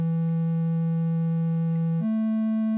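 Korg Argon8 synthesizer holds a steady, pure wavetable tone that jumps up in pitch after about two seconds as wave 2 is raised a fifth, sounding clean and constant with no voices.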